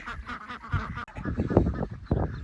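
Farm ducks on a small family farm quack and honk in a rough, overlapping chorus, fairly close and moderately loud, in short bursts with no one talking.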